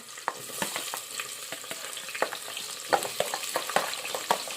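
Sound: onion, green chilli and potato frying in oil

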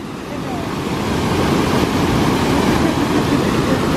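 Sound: artificial waterfall by a pool at a beach resort

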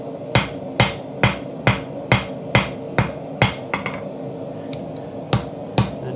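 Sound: hammering hot steel on an anvil, forging a knife

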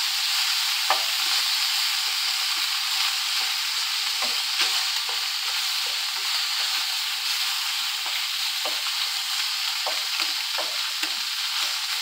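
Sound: octopus frying and being stirred in a pan

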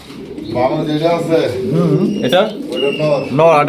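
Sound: pair of Jharna satin pigeons cooing

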